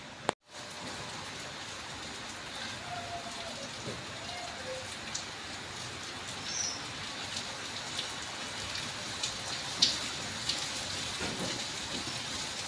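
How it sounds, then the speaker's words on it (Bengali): Taro stolons stir-frying in a pan with salt and coriander powder give a steady, dense sizzling hiss throughout, with a few faint scrapes and ticks of stirring and no voices. "আর একটু নাড়াচাড়া করে ভেজে নিচ্ছি।"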